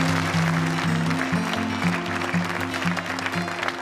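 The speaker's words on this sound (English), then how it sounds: "Zoe and the rest of the guys should have another round of applause" An audience claps for the garden makers at a Gardeners' World show, giving a steady, dense crackle of applause over a low, sustained tonal hum or music underneath.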